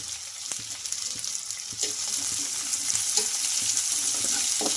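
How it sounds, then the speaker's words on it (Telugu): Chopped onions and green chillies frying in a pan for dosa, a steady close sizzle that grows slightly louder, with occasional light clicks of a utensil. "చిన్నగా కట్ చేసుకున్న ఆనియన్స్ కూడా వేసుకోవాలి అలాగే ఇందులోకి చిన్నగా కట్ చేసుకున్న పచ్చిమిర్చి ముక్కలు కూడా వేసుకోవాలండి"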